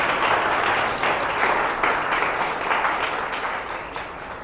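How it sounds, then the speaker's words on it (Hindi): A church congregation claps together in worship, a dense, steady burst of many hands that stays close and loud before easing off slightly toward the end, with no talk over it. "आइए हम परमेश्वर को ताली बजा के उसका नाम का महिमा करेंगे"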